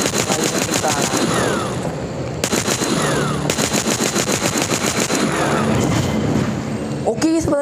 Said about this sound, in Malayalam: ഞാൻ ഗൈസ് ഇവരൊക്കെ ഒന്ന് വെടി വെച്ച് കാണാം